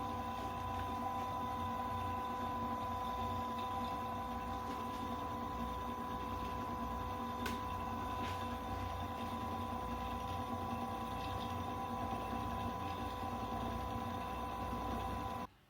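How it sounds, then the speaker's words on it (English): A CNC coil winding machine winds wire onto a Stratocaster-style guitar pickup, giving a continuous, even mechanical hum and whine that holds steady at close range for about fifteen seconds before cutting off abruptly. "Obviously mine's a CNC machine, so I've started that, and now let's watch it go."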